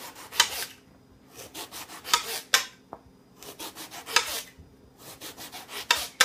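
A knife cuts through eggplant into half-inch slices, giving bursts of crisp slicing and rasping strokes in a steady rhythm with short pauses between cuts, close and fairly loud.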